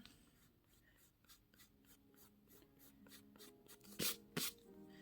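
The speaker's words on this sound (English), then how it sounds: "I might do a bit of a rub out." Eraser rubbing out pencil marks on paper, a faint rhythmic scrubbing of short back-and-forth strokes, close up, ending with two louder, harsher rubs.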